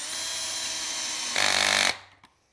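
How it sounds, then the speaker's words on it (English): A power tool cuts wood parts for a picture frame and drills screw pockets, a loud, steady high whine that rises briefly before spinning down, followed by a single small knock. "I'm going to cut my parts to finished length, get the screw pockets in them"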